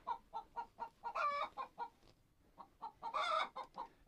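Free-ranging hens cluck close by in a straw nest, a steady run of short rhythmic clucks rising into two louder drawn-out squawks, fairly quiet and with no talking.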